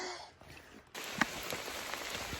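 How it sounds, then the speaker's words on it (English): Steady rain falls outdoors on the Long Trail near Mansfield, a soft broadband hiss that grows denser partway through, with a few scattered drops pattering nearby. "And now it's fucking raining again."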